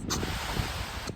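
Water sprays from a retractable garden hose nozzle in a steady, close broadband hiss that lasts barely more than a second, with faint rustling underneath.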